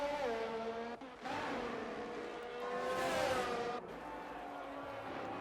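A race car in a sim racing game at Zandvoort sweeping down the start-finish straight, a loud sustained engine whine rising and falling in pitch with gear changes, close and steady throughout, no voices.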